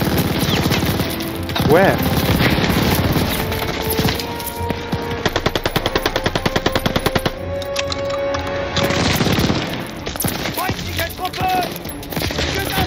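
Rapid bursts of automatic gunfire in the Call of Duty Vanguard campaign, a tight volley of shots in the middle with scattered shots and explosions around it, loud, with a voice talking over parts of it.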